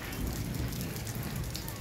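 Rain falls on a tent at Chong Chom market, giving a steady, dense patter with a soft hiss that stays even from start to finish.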